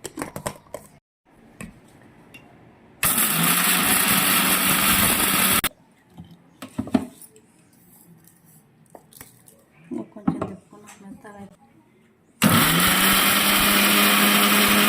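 A mixer grinder whirs loudly in two bursts while grinding a healthy chutney of leafy greens, chillies, curry leaves and salt until smooth, with quieter clatter and handling of the jar in between.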